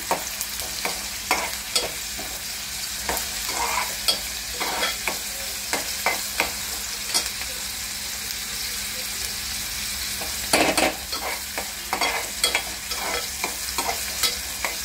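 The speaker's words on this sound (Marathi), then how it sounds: "आता ह्याच्यामध्ये आपण तेल ॲड करत आहोत। कांदा पूर्ण भाजून घ्यायचा।" Onion fries in oil in a pan, a steady hiss punctuated by repeated clacks and scrapes of a spatula stirring, with a louder cluster of knocks partway through and no talking.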